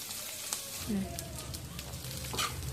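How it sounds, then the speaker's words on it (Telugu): Onions frying in a pan for a tamarind onion chutney, a steady soft sizzle with occasional crackles and stirring clinks, close and fairly quiet. "చూడండి ఫ్రెండ్స్, ఆనియన్స్ని ఈ విధంగా వేయించుకోవాలి"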